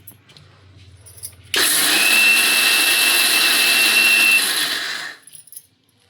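A mixer grinder grinds jowar (sorghum) into rava in one loud, steady burst of about three and a half seconds, starting abruptly and winding down at the end, with no voices.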